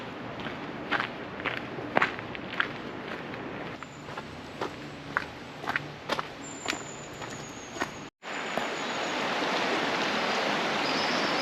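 Footsteps of a hiker on a rail trail beside a river, irregular crunching steps close by over a soft background wash, then a steady hiss of flowing water takes over near the end.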